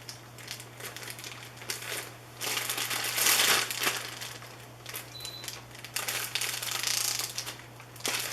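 A sealed plastic bag holding chicken drumsticks and garlic is squished and kneaded by hand, giving continuous crinkling and crunching rustles that swell and ease in bursts over a low steady hum.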